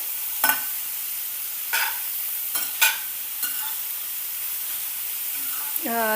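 Ridge gourd stir-fries on a medium flame under a constant soft sizzle and hiss, with a few brief stirring scrapes scattered through and a faint voice near the end.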